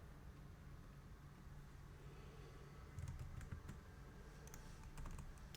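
Someone types on a computer keyboard while deleting code; quiet, close clicks come in two brief bursts over a low background hiss.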